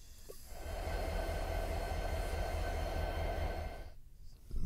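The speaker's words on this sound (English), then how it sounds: "The train is already moving." Simulated train rolling along in Train Sim 2017, a steady rumbling clatter of wheels on rails that runs continuously before dropping away near the end.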